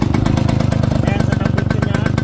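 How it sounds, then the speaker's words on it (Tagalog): A 1979 Yamaha YL2 motorcycle engine idles up close, a loud, steady, rapid putter with an even pulse throughout and no other sound over it. "ito na yung final na tunog ng makina niya"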